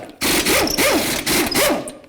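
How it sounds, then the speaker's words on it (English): A power tool, likely an impact wrench, removes the five 19mm lug nuts from the front wheel of a 2008–2012 Jeep Liberty: loud, close bursts of rising and falling whirring, about four spins in quick succession. "So we're just going to take off these 5 19mm lug nuts."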